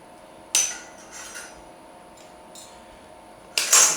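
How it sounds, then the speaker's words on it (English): Tin snips bite into metal in a few sharp, bright clipping snaps, spaced apart with quieter scraping between, close and distinct. "Just use some tin snips."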